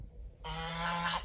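A goose gives a single loud, nasal honk close by at a house door, following a brief quiet moment of faint background noise.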